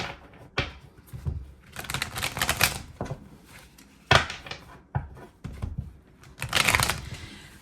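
Tarot cards shuffled by hand in bursts of riffling and slapping, with sharp taps between rounds, close and fairly loud with no talk.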